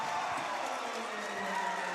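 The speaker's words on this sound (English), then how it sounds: "Crowd on Giles County side is fired up." A fired-up home crowd fills a high school gym during a Giles County High School basketball game, a dense, sustained roar of cheering that stays loud and constant throughout.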